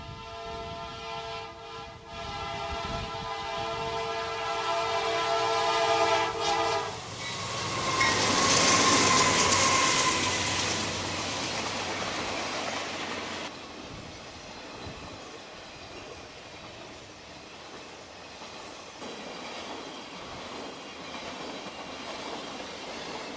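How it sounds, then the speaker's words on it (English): A CSX freight train, R123 from Chicago to Atlanta, rushes by Caskey, Kentucky on a very windy day, a long horn blast opening before the loud rumbling passage of cars settles into steady rolling noise. "R123, a Chicago to Atlanta TV train, rushes by Caskey, Kentucky"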